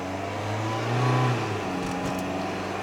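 A 2002 Toyota Echo's small four-cylinder engine revs up in a steady mid-pitched drone that swells briefly then settles, heard alone at moderate loudness without any talking.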